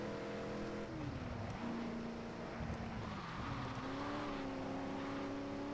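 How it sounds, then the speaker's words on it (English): Car engine in the Gear.Club Unlimited racing game, droning steadily while the pitch bends and climbs as the car power-slides and drifts across dirt, loud and continuous without a break. "You can get some pretty good power slides and drifts going."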